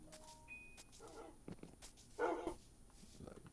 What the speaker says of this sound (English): There's an army of dogs.